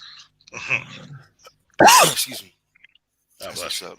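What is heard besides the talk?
sneeze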